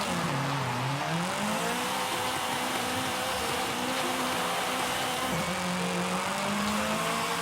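Mazda Miata drift car in Forza Horizon 5, its engine droning and revving steadily with rising and falling pitch, tires scrubbing beneath, loud and continuous throughout.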